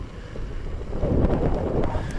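Wind blowing steadily and rumbling against the microphone on the open steppe in Mongolia, swelling slightly midway, with no other sounds.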